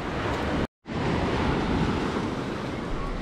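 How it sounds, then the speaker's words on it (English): Ocean surf rolling in at Laguna Beach, California, a steady broadband wash of breaking waves with wind buffeting the microphone, interrupted by a brief dropout near the start. "there's some random waves coming, look"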